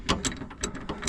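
Ratchet turning a Harbor Freight extraction socket on a rounded power steering line nut, a quick close series of about five sharp clicking pawl strokes in rapid rhythm.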